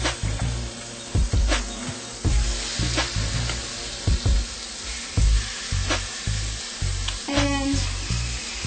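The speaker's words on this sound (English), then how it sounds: "we're going to put our peaches on the grill with the lid" Peaches grilling cut side down on a lidded grill give off a steady sizzle, with repeated soft knocks and scrapes from handling, close by and fairly loud.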